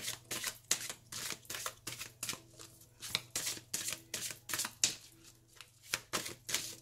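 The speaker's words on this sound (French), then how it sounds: "est-ce qu'on continue de mélanger ou est-ce qu'on coupe maintenant?" Tarot cards are shuffled by hand close up in a quick, regular run of crisp riffling swishes, each burst flicking past in rhythm, with no talking over it.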